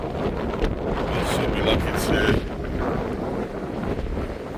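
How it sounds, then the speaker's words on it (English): Strong wind at Cape Point, South Africa, buffeting the microphone in loud, continuous gusts, with a person talking through part of it. "it's very, very, very, very windy here."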